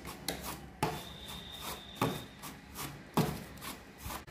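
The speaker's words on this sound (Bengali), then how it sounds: "সেই চালের গুঁড়ো ছাইটা আমি হাত দিয়ে ভালো করে এরকম করে আবার একটু মেখে নিচ্ছি" Hands work rice flour dough for dudh puli, giving soft, quiet rubbing and pressing strokes, roughly one per second, close and without talk.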